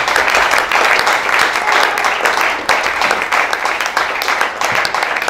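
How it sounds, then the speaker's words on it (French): A church congregation claps and cheers loudly during a French-language worship service, with continuous dense applause and crowd noise lasting the whole stretch and no speech over it. "Acclame Jésus."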